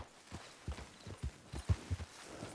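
Horse hooves in Red Dead Redemption 2 clip-clopping in a steady walking rhythm, a series of soft, low thuds close by with faint game ambience behind.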